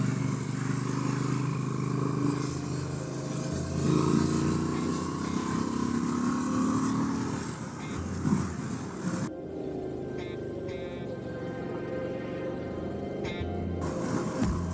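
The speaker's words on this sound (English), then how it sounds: "Love the way this bike sounds and handles." A Honda motorcycle engine hums steadily while riding on twisty mountain roads, moderately loud with a constant drone, plus a brief dip and wind-muffled change partway through.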